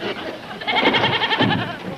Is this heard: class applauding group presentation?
no